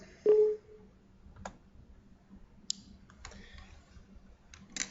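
Scattered computer mouse clicks while navigating Rockwell software, faint and sparse, a handful of sharp ticks spread over several seconds against a quiet background, with one louder tonal blip near the start.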